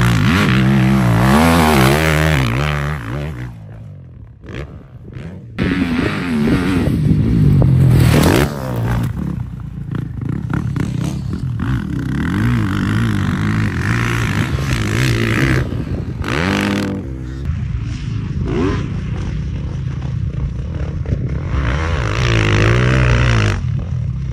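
A 2024 Beta 450 RX motorcycle being ridden, its engine loud and close throughout with repeated revving surges and throttle changes, alone without voices.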